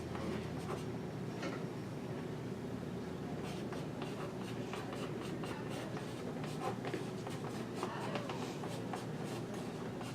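Chalk or marker writes quickly on a classroom board in a run of faint, rapid scratchy strokes and taps, heard under a steady low room hum and some distant background rumble.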